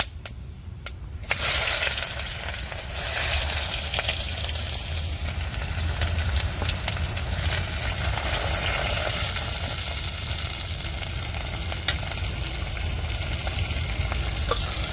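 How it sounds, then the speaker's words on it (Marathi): Finely chopped onions hit hot oil with bay leaf for egg biryani, bursting into a loud, steady close-up sizzle after a brief quieter opening, with stirring scrapes and crackle continuing throughout. "इथं ना मी कांदे दोन कापलेत बारीक ते पण घालून घेते मी"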